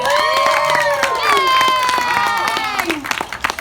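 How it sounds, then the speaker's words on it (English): A lively Magic Kingdom show audience cheers and shouts, with high excited voices and scattered clapping, the noise staying loud throughout before trailing off slightly at the end. "Let's give him a round of applause, everyone."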